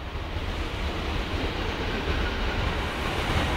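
Class 156 diesel train 156410 at Lincoln Central station, a steady dense rumble of running carriages that holds evenly loud throughout with no gaps.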